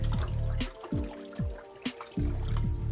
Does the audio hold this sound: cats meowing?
no